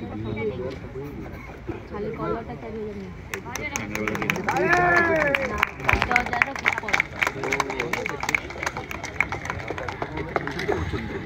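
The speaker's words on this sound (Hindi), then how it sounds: "अनुष्का एवं स्निग्धा गोटे जोरदार करताली" An audience claps for a prize winner at a ceremony, a scattered patter that grows into brisk, uneven applause with talk and crowd murmur mixed in beneath it.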